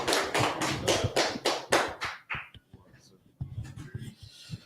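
A class gathering in Fayetteville, North Carolina claps in unison: about eight loud, evenly timed claps, then the sound drops away into quieter scattered noise and voices.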